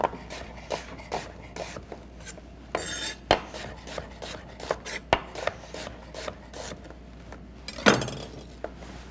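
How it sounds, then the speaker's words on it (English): Kitchen knife slicing an onion into thick julienne strips on a board, a series of close, crisp chopping taps at an uneven rhythm with one louder scraping stroke near the end. "we're just looking for a kind of a thicker julienne on our"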